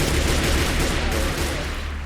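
Rapid automatic gunfire rattles nonstop from guns in a parasite apocalypse video game, dense and steady throughout with no pauses.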